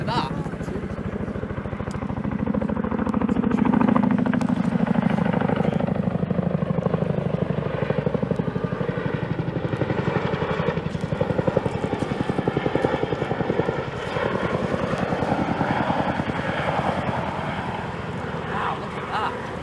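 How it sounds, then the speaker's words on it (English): A Chinook army helicopter's deep rotor thump rumbles steadily overhead at a beach, loud and sustained, with people talking over it. "that's an army helicopter, that."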